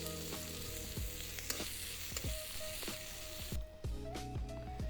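Bay leaf and dried red chillies fry with chopped onion in a little hot oil for a chicken kosha tempering, giving a constant close sizzle with a few sharp crackles and spoon taps.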